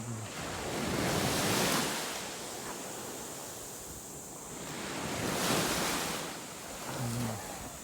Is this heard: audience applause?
no